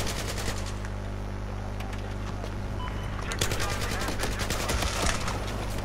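Machine guns fire during a Conquest match of the video game Battlefield 4. Rapid bursts of gunfire run steadily over a constant low rumble of battle, with scattered sharp shots growing denser toward the end.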